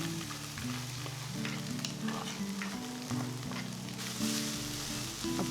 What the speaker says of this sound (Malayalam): ഇനി വേവിച്ച് വെച്ച പിണ്ടിയും ചെമ്മീനും കൂടെ ഇതിലേക്ക് ചേർക്കാം.